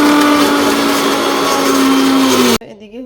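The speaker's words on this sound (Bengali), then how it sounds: "তো এখন হলো আমি আদা রসুন ব্লেন্ডার করব।" An electric blender whirs loudly and steadily, grinding ginger and garlic in a home kitchen, a constant motor drone that cuts off abruptly near the end, leaving quiet room noise.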